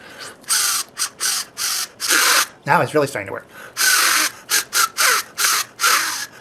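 A homemade reed instrument made from layered paper gives a series of short, buzzy, squawking honks in an irregular rhythm, close and fairly loud, with someone speaking briefly between the blasts.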